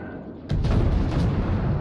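Heavy battleship main guns of the Tier VI French battleship Dunkerque firing in a World of Warships naval battle, a sudden loud boom that rolls into a sustained rumbling roar after a quiet start.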